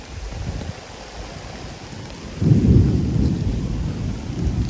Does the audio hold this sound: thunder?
yes